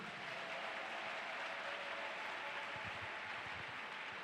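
A church congregation applauds in praise, dense sustained clapping from many hands that fills the room evenly and without pause.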